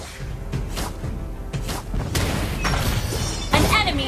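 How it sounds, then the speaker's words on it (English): A turret goes down in Mobile Legends amid a burst of heavy booms, thuds and crashing impacts from the game's battle effects, layered over busy in-game sound. "Your team destroyed a turret!"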